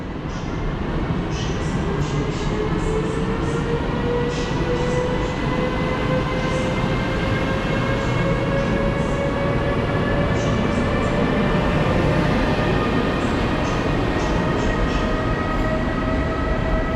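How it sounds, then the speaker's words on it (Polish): A train pulls out of Warszawa Centralna station, a steady loud rumble of rolling stock with rising tonal whine from the traction motors, continuous throughout without talk. "Punktualnie o 17 skład rusza"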